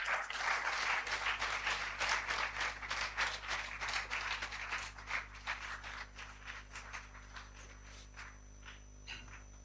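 Audience applause at an academic conference honouring a professor, a dense burst of clapping that thins out and tapers off over about ten seconds, with a steady low hum underneath.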